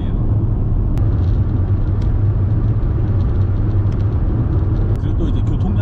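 Steady car engine and road rumble from a vehicle driving slowly along a rough, lightly trafficked road in the Australian outback, a continuous close drone with no clear talk over it.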